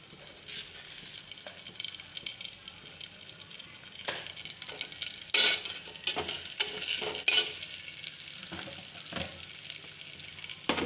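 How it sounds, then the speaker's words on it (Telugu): Peanuts, cashews, cumin and mustard seeds frying in oil and ghee make a continuous close crackling sizzle, with sharper spitting pops scattered through and a few louder bursts midway. "కొంచెం ఆయిల్ అండ్ గీ రెండు వేసి లైట్గా ఇలా ఫ్రై చేసుకోవాలి."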